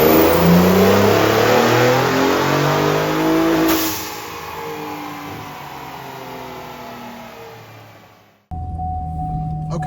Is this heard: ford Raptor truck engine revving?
yes